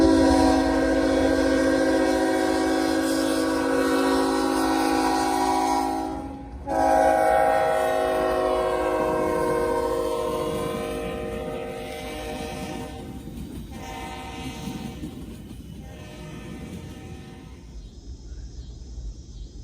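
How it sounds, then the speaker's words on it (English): Norfolk Southern freight train NS 28C, led by a heritage diesel locomotive, rolls by at night, its loud multi-tone horn blaring for long blasts over the rumble of the train before it fades away. "NS 28C was led by NS 8025, the Monongahela Heritage Unit"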